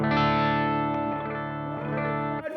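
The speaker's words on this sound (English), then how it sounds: "That's a transparent overdrive. It's totally transparent" An electric guitar played through a transparent overdrive pedal with a blend knob rings out a single strummed chord that sustains evenly and fades slightly, with a light gritty edge.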